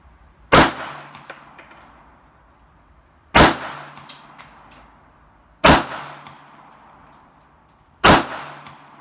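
Four loud, sharp pistol shots spaced a few seconds apart, slow fire from a bench at a shooting range with a Sig Sauer P238 or Auto Ordnance 1911 A1, each crack followed by a short ringing decay.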